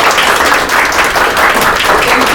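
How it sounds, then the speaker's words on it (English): Loud, dense applause from a large audience, steady clapping filling the whole stretch without letup. "I want us to give a round of applause to our finalists."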